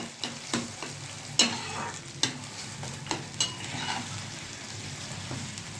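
Tempering (vaghar) with tomatoes, chillies, onion and coriander crackles and sizzles in a pan while being stirred, with sharp scraping clicks of the spoon against the pan standing out over a steady frying hiss, close by.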